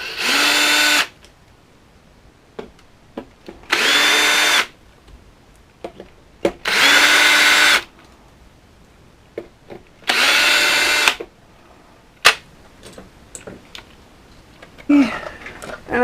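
Cordless power drill backing out the body screws on a UDR, four loud whirring bursts about a second long each, separated by quiet gaps with clicks and clatter of handling.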